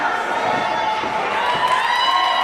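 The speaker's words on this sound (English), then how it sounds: "His hometown crowd showing their love for Ace Myles here." Hometown crowd at a wrestling match during an Ace Myles versus Eric Emanon bout, a steady wash of cheering and shouting voices that stays loud and continuous throughout, with no single voice standing out.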